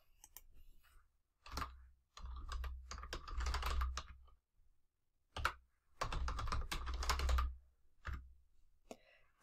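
A computer keyboard clatters up close as a new password is entered, with quick bursts of keystrokes separated by short pauses and scattered single clicks.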